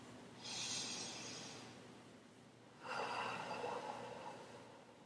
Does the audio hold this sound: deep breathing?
yes